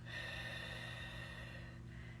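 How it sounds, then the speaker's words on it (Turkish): Slow, steady breathing, air drawn in through the nose and let out through the mouth, close and soft over a continuous musical drone. "Son bir kez daha burnumuzdan nefes alıyoruz ve ağzımızdan veriyoruz"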